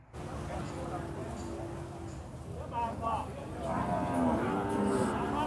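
Cattle at a livestock market moo in low, drawn-out calls that grow louder toward the end, heard over someone talking and the busy market background.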